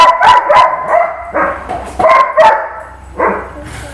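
A dog barks repeatedly and loudly close by in irregular bursts of one or two sharp barks, with short pauses between them.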